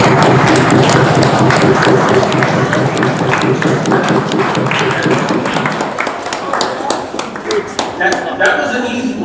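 Sustained, dense applause and clapping from a large conference audience, loud and continuous, with some cheering mixed in before it thins slightly toward the end.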